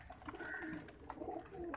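Pigeons coo softly in low, throaty murmurs amid a faint, busy background.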